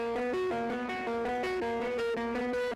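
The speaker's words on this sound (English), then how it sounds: "I used Hard Vacuum and Edge, both in the distortion menu." A buzzy synth distorted with Logic 11's Hard Vacuum and Edge plugins plays a steady repeating melodic pattern of short notes, gritty and bright, with no voices present.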